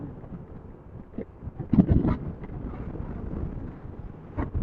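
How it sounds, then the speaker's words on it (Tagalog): Low, gusty wind rumbles against the microphone while riding a Benelli Panarea 125 scooter near Kaybiang Tunnel, swelling into a stronger buffet midway before settling into a steady outdoor blow. "Sarap ng hangin."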